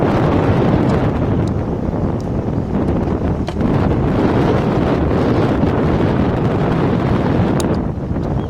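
Strong wind buffets an outdoor microphone at a Highland Games reunion gathering, a loud continuous roar and rumble that lasts throughout with no break.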